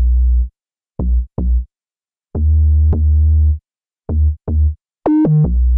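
Deep synth bass preset called It's Kind of Deep from the Lush sample pack, playing a sparse pop bassline of short and held notes with rich harmonic texture, a rest between phrases and a rising melodic slide at the end.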